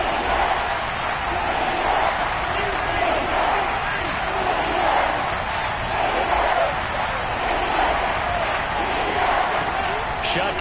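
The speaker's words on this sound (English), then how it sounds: "Crowd getting in it a bit already." A football stadium crowd roars in a steady, dense wall of cheering noise that holds loud and constant, with a commentator's voice running over it.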